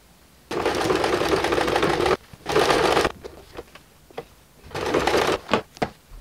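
A sewing machine stitches a jacket made from a Papercut Patterns Stacker Jacket pattern, running in close, loud bursts of steady whirring with short pauses and soft handling clicks between runs.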